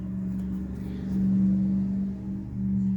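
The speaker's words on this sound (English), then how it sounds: "Sorry for the road noise." Road noise from passing cars, a steady low rumble with a hum that rises and falls slightly as vehicles go by outside, moderately loud, with no talk.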